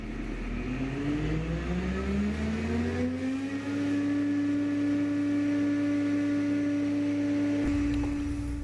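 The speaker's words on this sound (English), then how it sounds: "we'll use the increase switch to bring the engine speed up to 2100 RPMs" A warmed-up engine revs up steadily to 2100 RPM, its droning pitch rising over about four seconds before settling into a loud, constant hum with no talking.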